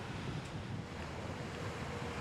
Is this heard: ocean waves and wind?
yes